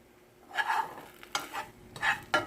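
Butter sizzles in a hot frying pan in short bursts while a grilled cheese sandwich is cooked, stirred and scraped, with brief quieter gaps between.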